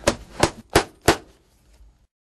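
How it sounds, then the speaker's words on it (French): Four sharp hammer blows drive brass nails into the toe of a shoe sole, fairly loud and evenly spaced, followed by a couple of softer taps before silence. "pour le cloutage du bon bout, on va utiliser des pointes en laiton qui ne rouilleront pas"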